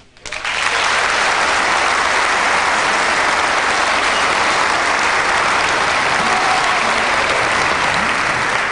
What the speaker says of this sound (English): a terrific round of applause from the crowd here